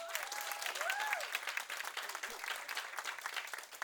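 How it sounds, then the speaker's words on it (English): An audience claps for a CEO speaker at the end of a leadership-summit masterclass, steady applause of moderate loudness filling the whole span, with a few cheers or voices rising over it early on. "Give her a round of applause."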